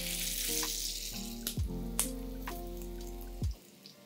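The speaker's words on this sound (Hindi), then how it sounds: "अब हम सारी वड़ियों को शैलो फ्राई कर लेंगे।" Shepu (dill) vadis shallow frying in a pan of oil, a steady close sizzle with a hum underneath and a few sharp crackles and taps, cutting off near the end.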